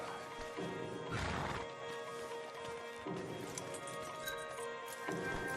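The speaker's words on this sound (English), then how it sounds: "Marston, you're gonna tether him up to Javier's horse." A horse whinnies loudly against a rumbling background in Red Dead Redemption 2, with shorter snorting neighs following, no talking.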